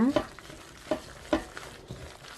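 Thinly sliced onion, chopped scallions and seasoning being mixed by hand into a paste for cucumber kimchi, with a few distinct wet squelching and rustling strokes spaced about half a second apart, close and fairly quiet.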